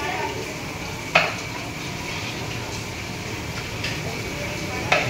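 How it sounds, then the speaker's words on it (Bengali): Mutton pieces with spices and garlic frying and being stirred in a pan, a steady close sizzle with a few sharp utensil scrapes against the pot. "এবার এটা নাড়ানো হবে, কষা হবে, মটন কষানো হবে।"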